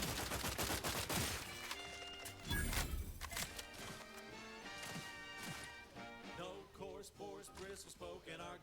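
Gunfire in The Outer Worlds 2, a burst of sharp shots and crashes at the start, then sparse impacts under a layered game soundtrack with a voice briefly heard.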